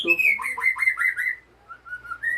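A white-rumped shama sings a rapid run of bright, varied whistled notes close by, pauses briefly, then adds a few short clear whistles.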